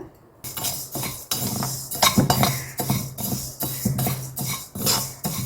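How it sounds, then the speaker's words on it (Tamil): Moong dal dry-roasting in a heavy pan, stirred with a utensil: brisk, repeated scraping and clinking strokes against the metal in an irregular rhythm, close and fairly loud, with no talk. "பாசி பருப்பை ஒரு வானொலியில் போட்டு வறுத்துக்கிடுவோம்"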